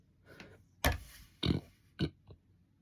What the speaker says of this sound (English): I'm gonna give you guys a belch out.